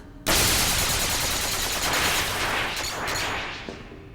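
Sniper gunfire in the Kingdom Hearts 2 video game bursts in sharply after a brief silence, then rolls on as a loud, dense, sustained crackle of shots for several seconds before easing slightly near the end.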